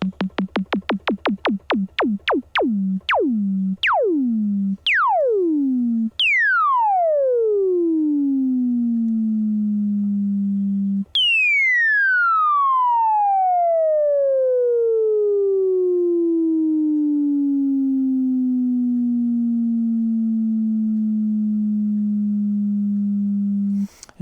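A Minimoog synthesizer plays a series of plucked tones whose decay grows longer with each note, the final one ringing out and gliding down for over ten seconds.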